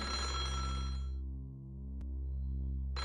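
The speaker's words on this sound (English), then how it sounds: "The sound of the telephone echoed throughout the wide hall." A telephone bell rings through a wide hall, one sustained ring that fades and echoes, then a faint click before the ringing starts again.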